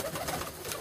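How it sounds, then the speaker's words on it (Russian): Domestic pigeons cooing close by in Barnaul, soft low burbling calls over a brief moment, faint and without speech. "хорошие мои голуби, а"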